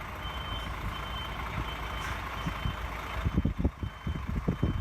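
A truck reversing into a loading dock sounds steady, evenly spaced reversing beeps over a low idling engine, the beeps carrying through the whole stretch while engine thumps grow louder toward the end.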